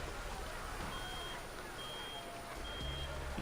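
Three evenly spaced high-pitched beeps from an alarm in the Reverse: 1999 video game, thin and fairly faint over a noisy rumbling background, with a low hum entering near the end.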